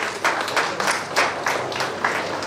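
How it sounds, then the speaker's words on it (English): Guests at a high-school alumni reunion give the finance committee a round of applause, many hands clapping in a steady, fairly soft wash with rhythmic pulses throughout. "A big round of applause for the finance committee."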